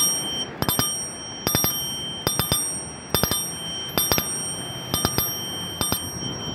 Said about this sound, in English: That's the sound effect of a Citibike bell.